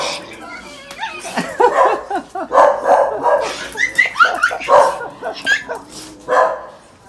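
Short, high yips from a puppy pop up among laughter and excited talking, the barks scattered and close.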